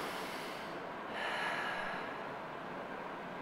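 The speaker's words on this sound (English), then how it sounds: "Big deep breath in and out." A single deep breath drawn in and let out during a hip external rotation mobility stretch, soft and close with a swell of airy hiss around the middle, alone without talk.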